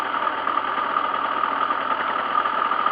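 A GPR 50cc motorcycle engine idles steadily with a buzzy, even drone that stays close and constant throughout, with no voices over it.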